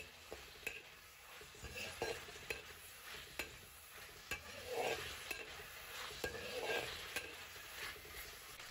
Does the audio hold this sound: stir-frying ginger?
yes